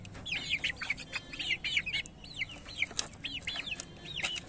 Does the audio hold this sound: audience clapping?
no